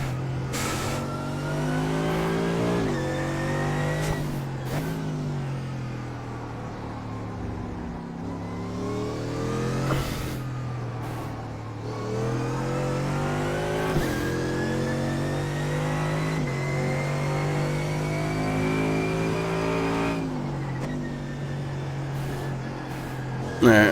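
A Mercedes AMG GT3 race car in iRacing at the Nürburgring revs up through the gears and snarls on downshifts. Its loud, close engine note rises and falls in repeated cycles, with brief blips at each shift.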